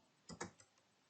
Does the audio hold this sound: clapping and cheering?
no